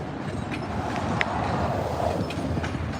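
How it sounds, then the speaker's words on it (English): MBTA commuter train rumbles at a rail yard, a steady broadband low roar with faint metallic clicks and a brief squeal, moderately loud and constant, without voices. "And there's another train back there in line."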